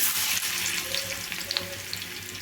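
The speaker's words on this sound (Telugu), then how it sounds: "ఎల్లిపాయ ముక్కలు బాగా వేగాలండి" Onion pieces fry in a pan with fennel seeds, giving a steady close sizzle with faint crackles and a couple of light utensil clinks, and no one speaking.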